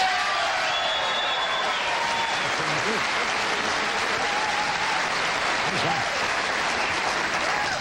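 Steady, full applause from a late-night television studio audience, a thick, even roar of clapping that holds at the same level throughout, with faint voices and whoops mixed underneath.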